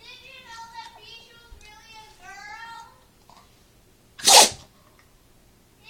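A dog gives one sharp, loud sneeze after a stretch of people and someone talking in the background, the sneeze standing out clearly against quiet room noise.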